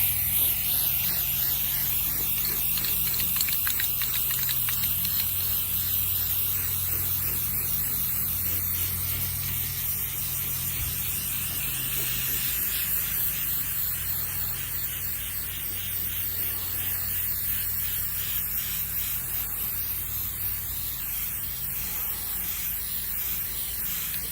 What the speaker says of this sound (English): now I'm going to start spray painting it.